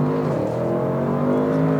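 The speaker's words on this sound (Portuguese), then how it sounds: "Vamos estolar o carro. Olha lá, programa Launch Control ativado." A 600 cv Audi RS6 wagon under launch control from standstill, a steady loud engine drone with strong harmonic tones and a slight rise in pitch, no talking over it.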